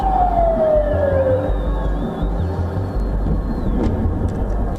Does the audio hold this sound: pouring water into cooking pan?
no